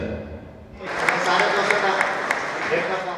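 An audience at a Saraiki-language conference hall breaks into applause after a short quiet stretch, with steady clapping from a sizeable crowd that holds under a murmur of voices.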